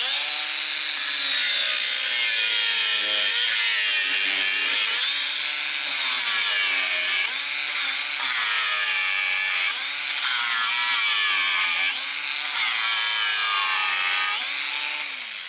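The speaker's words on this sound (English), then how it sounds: "So we're gonna cut 5 bolts and let's see how it does with this Diablo disc." A Bosch cordless cutting tool fitted with a Diablo disc slices through metal bolts, a loud continuous high-pitched grinding whine that dips and rises under load for the whole stretch.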